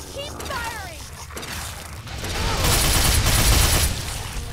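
Gunfire in the video game Fallout 3 on very hard mode, with bursts of shots and a loud dense barrage in the second half, interleaved with someone talking over it.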